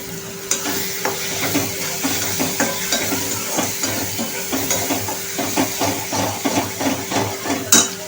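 Mashed ridge gourd is sautéed in a pan, with a steady sizzle under repeated rhythmic scraping and tapping strokes of a spoon stirring against the pan.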